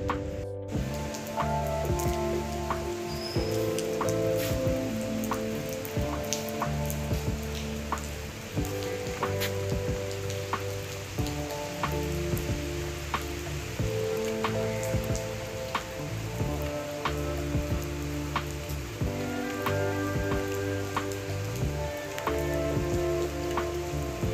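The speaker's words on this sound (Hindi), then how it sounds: "अभी बारिश शुरू हो गई है" Steady rain patters and drips on a surface throughout, with scattered sharper drops over a constant wash of falling water and no voices.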